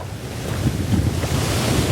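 Gentle sea waves wash steadily at Ponta Negra beach in Natal, northeast Brazil, a continuous soft surf rush mixed with light wind noise, close and fairly loud, with no voices.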